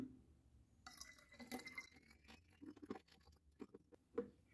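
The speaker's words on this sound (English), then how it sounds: "And then we're going to pour B into A." Component B of BallistiX Squire is poured into component A: quiet, close liquid trickles and glugs with small clinks and taps of containers, irregular and faint, with no speech.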